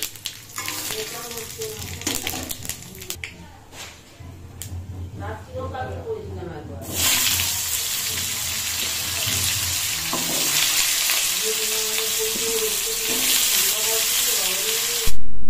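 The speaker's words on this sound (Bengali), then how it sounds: "1 ফোঁটা তেল দিয়ে একটুখানি 5 ফোঁড়ন দেবো 5 ফোঁড়ন আর একটু লঙ্কা দেবো" Panch phoron and chili hitting a single drop of hot oil in a home kitchen, a bright hissing sizzle that swells and holds steady, following running tap water and someone talking nearby.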